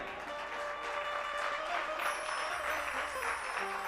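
A sparse, half-hearted round of clapping from an audience at a religious discourse, steady but subdued, with some faint background murmur beneath it.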